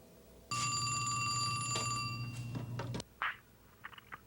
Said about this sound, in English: when the phone rings again, you are prepared.